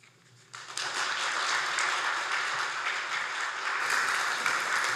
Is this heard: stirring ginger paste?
no